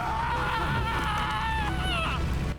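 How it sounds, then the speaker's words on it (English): A knocked-out video game character screaming at full volume, a loud, sustained wavering cry with a falling pitch, heard close over game noise. "Even that guy you literally just knocked out, like, still hear him scream."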